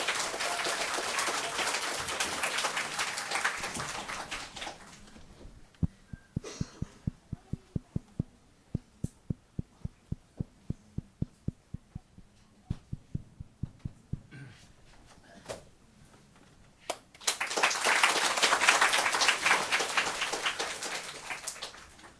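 Applause from the audience at a church gathering in Tokyo welcoming singers. A dense clapping wash opens and closes the scene, and sparse separate claps and thumps fall in the quieter middle.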